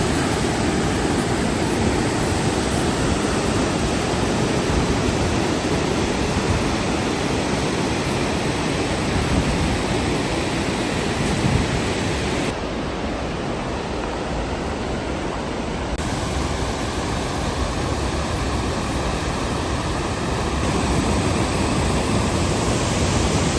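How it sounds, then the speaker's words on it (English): A huge Icelandic waterfall roars in a loud, steady, broadband rush that fills the whole stretch without a break, briefly dulled partway through, with no voices over it. "I don't think I've ever seen a waterfall this big before."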